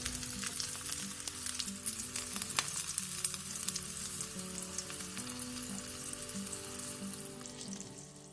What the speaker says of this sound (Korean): 제일 약불에서 앞뒤로 노릇노릇하게 부쳐주세요